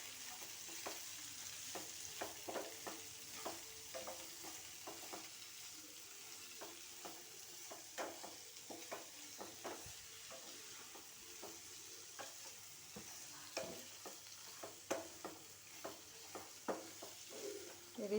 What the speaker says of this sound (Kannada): ಇದಿಷ್ಟನ್ನು ಸ್ವಲ್ಪ ಹುರ್ಕೋಬೇಕು. ಕೊತ್ತಂಬರಿ, ಸ್ವಲ್ಪ ಕೆಂಪು ಮೂಡಿ ಬರಬೇಕು ಹುರ್ಕೊಳ್ಳೋಕ್ಕೆ.